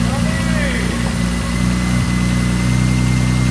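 Turbocharged BMW E30 with an M52 engine idling roughly after starting in winter, a loud close steady drone with a low pulsing hum, with a voice speaking over it.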